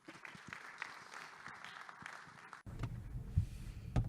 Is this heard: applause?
yes